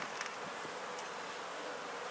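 Honey bees buzz in a dense, steady swarm during an inspection of a top bar hive, close and continuous with no talk.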